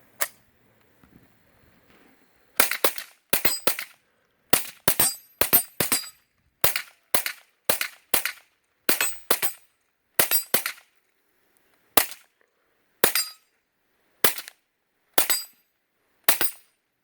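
A Mossberg 715T rifle fired repeatedly, around thirty sharp, loud cracks in quick pairs and small clusters after a short quiet opening, then a steadier rhythm of single shots toward the end.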